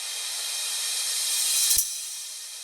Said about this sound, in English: And then just a riser and a downer like this.